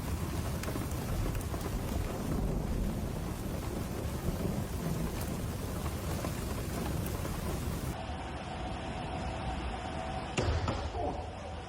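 Heavy rain pours steadily during a thunderstorm in the video game GTA, a dense close hiss with low rumbles, thinning partway through, with a single deep thud near the end.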